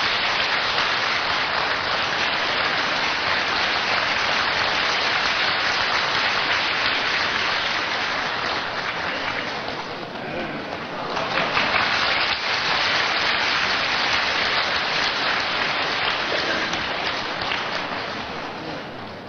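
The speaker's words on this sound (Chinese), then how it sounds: "以热烈的掌声感谢" A large audience gives warm, sustained applause, a dense and even wash of clapping that carries on loudly for nearly twenty seconds with only a slight dip midway.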